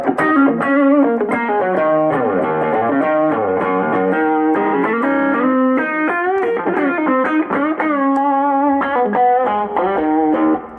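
Electric guitar played through a Tube Screamer overdrive pedal adds mild, gritty distortion to a run of sustained melodic notes and bends, loud and up front with no talking.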